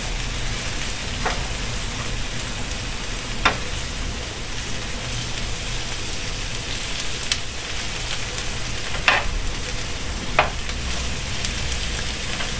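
A smoked salmon omelette egg mixture frying in a pan, giving a continuous close sizzle and crackle with a few sharp utensil taps scattered throughout, no voices.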